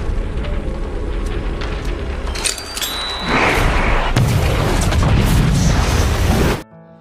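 A film explosion in a zombie action movie erupts as a loud, rumbling boom, followed by a second burst and sustained roaring debris noise over a dense action soundtrack, then cuts off abruptly.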